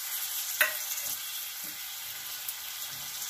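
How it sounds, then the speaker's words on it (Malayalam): Tomatoes sizzle in a hot pan while being stirred, giving a soft, steady frying hiss with a few light scraping knocks from the spoon. "ഇനി ഇതിലേക്ക് തക്കാളി കൂടി ഇട്ട് കൊടുക്കുകയാണ് ചെയ്യുന്നത്."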